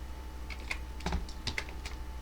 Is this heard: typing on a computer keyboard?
yes